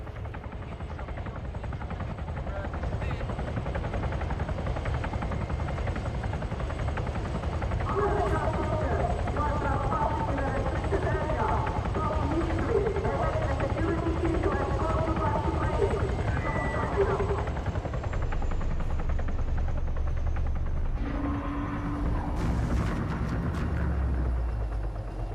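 A helicopter in the combat video game Arma 3, its steady rotor drone running loud throughout and partly overlaid by game sounds and radio-like chatter.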